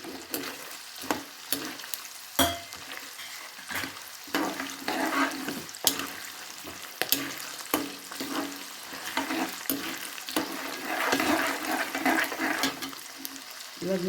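Broken dried red chillies and unpeeled garlic cloves fry in hot oil, giving a continuous close sizzle and crackle punctuated by repeated sharp clicks and scrapes of a spoon stirring the pan.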